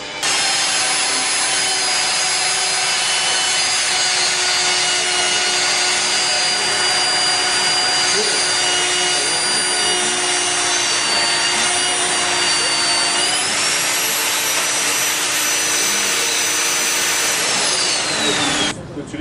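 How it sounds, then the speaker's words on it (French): A milling machine cutter with internal lubrication, fed through the tool from inside to outside, makes a long, loud, steady whine with sustained tones that shift in pitch past the middle, and voices sound faintly beneath it. "qui va rentrer sur le côté et qui va aller lubrifier ma fraise de l'intérieur vers l'extérieur"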